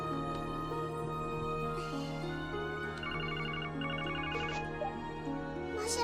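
A phone rings in the Trails to Azure video game, its repeated electronic trill sounding in short bursts over steady background game music.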